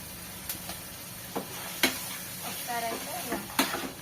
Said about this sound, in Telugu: ఒకసారి అయితే ఇలా బాగా కలిపేసుకుంటున్నాను.